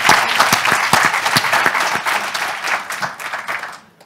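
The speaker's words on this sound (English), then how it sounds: "Give her a round of applause." Audience applause at a budget review meeting, loud and dense clapping from the start that thins out and fades toward the end of about four seconds.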